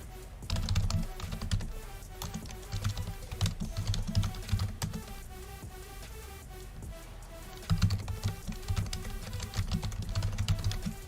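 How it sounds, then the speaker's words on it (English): Rapid typing on a computer keyboard, close and continuous with dense key clicks in bursts, briefly slowing midway before resuming. "I'm typing that to you."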